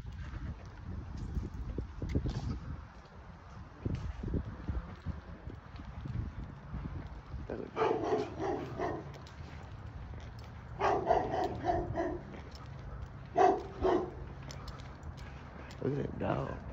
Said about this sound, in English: Look at them dogs.